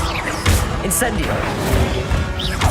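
A fire spell cast in Hogwarts Legacy bursts out with a dense whooshing crash, wrapped in busy game effects and music, with further impacts and swishes following over nearly three seconds.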